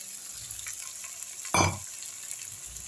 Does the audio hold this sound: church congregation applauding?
no